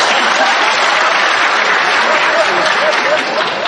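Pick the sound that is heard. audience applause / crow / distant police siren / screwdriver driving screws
audience applause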